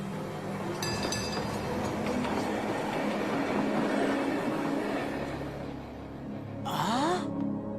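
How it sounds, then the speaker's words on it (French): A tram rolling past in an animated cartoon scene, a steady rumbling rail noise with clattering and a rising squeal near the end. "Ton tram a été retardé, c'est ça?"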